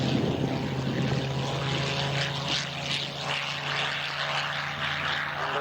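Propeller aircraft engines drone steadily at an airshow, a loud sustained tone with a strong low hum and rough broadband roar, holding constant with slight swells as the plane passes.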